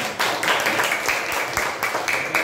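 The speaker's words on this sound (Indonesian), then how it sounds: "Ya, tepuk tangan semuanya." A group at a school event claps together in a burst of applause, a dense patter of many hands at moderate volume with no voices.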